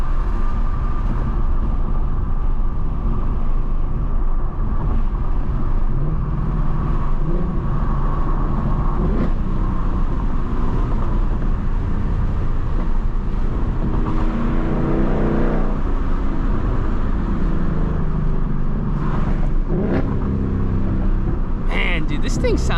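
A 2024 Ford Mustang GT with an H-pipe and no rest of the exhaust rumbles loudly and continuously from inside the car, with steady engine drone and occasional revving swells, and someone talks over it.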